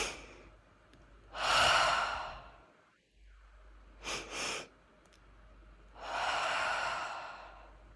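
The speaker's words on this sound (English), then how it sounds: "inhale twice fast through the nose and then exhale, long exhale out through the mouth" Two quick sharp sniffs in through the nose followed by a long, soft breathy exhale through the mouth, repeated in a calm breathing exercise, close and quiet with no talking.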